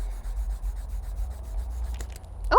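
A blue colored pencil is rubbed up and down on paper nearby, a soft continuous scratchy rasp with a faint rhythmic pulse, ending in a brief louder knock.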